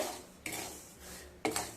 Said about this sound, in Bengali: সুজি দিয়ে শুকনো খোলায় সুজিটাকে খুব ভালোভাবে নেড়ে নেব।